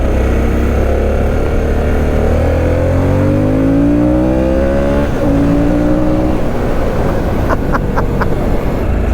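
A Harley-Davidson Sportster S in sport mode pulls hard through the gears, its engine note rising in pitch, dropping at a shift and climbing again, loud and close under steady wind rush.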